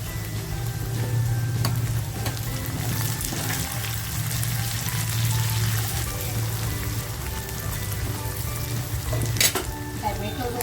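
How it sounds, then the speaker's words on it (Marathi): Green chilli goes into onion that has browned slightly in hot oil, giving a loud, dense sizzle and crackle that runs steadily throughout, with a faint low hum beneath and occasional utensil clinks. "कांदा थोडासा लालसर झालेला आहे मिरची टाकते"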